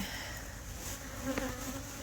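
Honey bees humming around an open hive where they have brought in pollen, a soft steady drone throughout with a brief brighter flicker near the middle.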